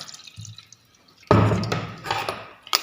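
Blended amla gooseberry juice is strained, dripping and splashing into a vessel below after a couple of soft taps, then a steady close trickle with a few sharper drips.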